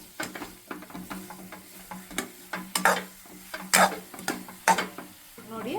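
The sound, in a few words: stirring aloo paratha potato stuffing in a pan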